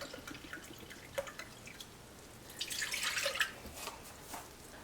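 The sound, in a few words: pouring one cup of apple cider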